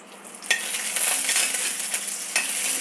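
Five dried red chillies frying in coconut oil for a curry, a bright continuous sizzle up close, broken by a couple of sharp scraping stirs of a spoon in the pan, with no voices.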